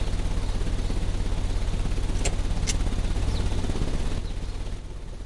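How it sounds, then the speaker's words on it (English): An engine runs in the Sherlock Holmes: Crimes and Punishments video game just after being started. It makes a dense, loud, continuous mechanical rumble with a couple of brief sharp clicks, then eases slightly toward the end. "The engine has started."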